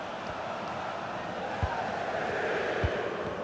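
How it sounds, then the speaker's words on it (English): A packed stadium crowd in the video game FC24 fills a Ligue 1 match between Lyon and Monaco with a steady, loud roar, with low thuds here and there and commentary over the top. "Well, just listen to this crowd."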